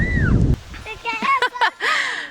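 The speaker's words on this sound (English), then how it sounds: "oh, it's windy." A brief gust of wind in a South Carolina garden in late May buffets the microphone with a low rumble, then dies away as a person starts talking.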